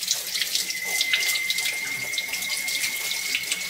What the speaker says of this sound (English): I'm gonna start off by just rinsing the mirror under lukewarm tap water